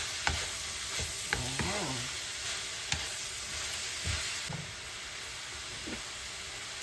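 Carrots sauté in a pan for spaghetti sauce, a steady soft sizzle with occasional clicks and scrapes from stirring, while a voice speaks briefly.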